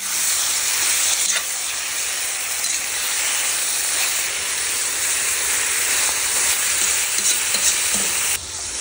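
Pork loin frying in a kazan with potatoes, stirred steadily: a loud, continuous sizzle and hiss with scraping stir strokes throughout, no voices.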